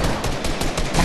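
Rapid automatic gunfire in a shooter video game, a close, loud burst of repeated shots fired in quick succession across about a second.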